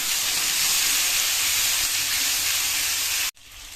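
Grated onion hitting hot oil seasoned with cumin and bay leaf, a loud, close, continuous sizzling hiss that cuts off abruptly near the end.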